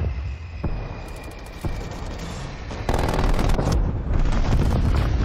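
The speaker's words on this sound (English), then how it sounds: "Hostile strafe run inbound" An enemy strafe-run airstrike in Call of Duty Cold War: loud, rapid bursts of aircraft gunfire rattle in over a droning hum, growing denser and heavier toward the end with sharp impact cracks.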